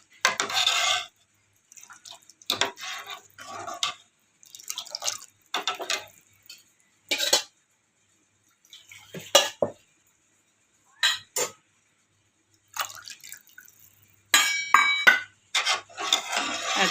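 A ladle stirs kadhi in a cooking pot, giving short bursts of liquid swishing and metallic clinks separated by pauses, close and fairly clear.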